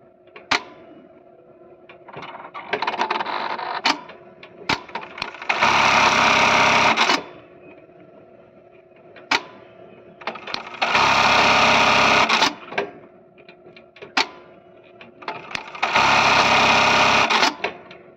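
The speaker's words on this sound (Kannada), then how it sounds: "ಇವಾಗ ಸ್ಟಿಚ್ ಮಾಡಿ ತೋರಿಸ್ತೀನಿ ನೋಡಿ" Brother KE-430HX bartack sewing machine running at about 2000 stitches per minute, three loud bursts of rapid stitching each lasting over a second, separated by sharp clicks and thumps of the mechanism, with no talk.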